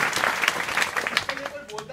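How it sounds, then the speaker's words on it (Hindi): Students at an inter college in Ora, Azamgarh applaud a fellow student, a short burst of clapping from a group that thins out and fades as a voice speaks over it. "ताली बजाओ इनके लिए।"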